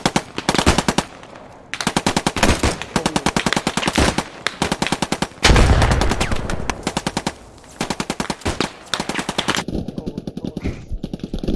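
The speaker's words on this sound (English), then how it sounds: "Shots to my right, so southeast of the main building." Rapid automatic gunfire in the World War II shooter Post Scriptum, loud close bursts of machine-gun shots repeating in long rattling strings with brief pauses and a heavier blast between them.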